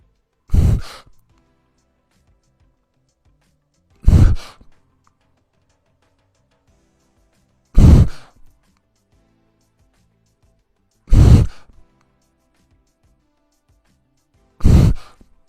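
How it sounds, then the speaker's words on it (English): A freestyle swimmer breathing every three strokes, five evenly spaced bursts of exhaling through the nose and then the mouth followed by a quick inhale, each about three and a half seconds apart, with near-silence between them. "follow along my breathing pattern while I swim freestyle, breathing every 3 strokes."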